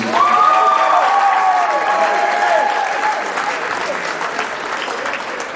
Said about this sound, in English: Ladies and gentlemen, one more round of applause for our seniors.